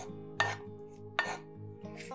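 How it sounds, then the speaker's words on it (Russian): Fried eggplant pieces being transferred into a bowl in a home kitchen, giving three distinct clinks and scrapes of utensil against dishware spaced about every second, close and fairly clear over a steady low hum. "Готовые баклажаны перекладываем в миску."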